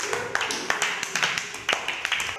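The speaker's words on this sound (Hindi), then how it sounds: "वेरी गुड तमन्ना, के लिए ताली बजाओ सब लोग" Children in a classroom clapping for a classmate named Tamanna, a short, uneven burst of close hand claps with scattered individual slaps.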